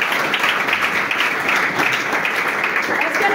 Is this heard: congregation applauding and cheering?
yes